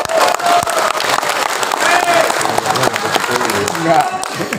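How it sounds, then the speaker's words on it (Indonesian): An audience at a political talk breaks into applause, a dense continuous patter of many hands clapping that fills the room, with a voice carrying over it. "Tepuk tangan untuk mereka bertiga."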